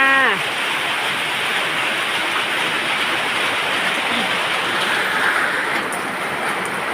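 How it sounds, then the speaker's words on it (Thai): Steady, dense hiss of rain falling throughout, even and continuous, with a brief voice at the very start. "ฝนตกค่ะฝนตก"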